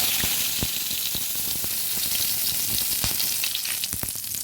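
Dried red chilli and bay leaf frying in hot oil in a kadai used for frying potatoes: a continuous bright sizzle with sharp crackles and pops scattered throughout, close and steady.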